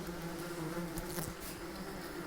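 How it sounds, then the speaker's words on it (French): A colony of roughly 500–600 wasps hums around their nest, a continuous close buzzing drone with overlapping wingbeats that holds steady and faint, with no talking. "Un nid, il doit y avoir 500-600 guêpes."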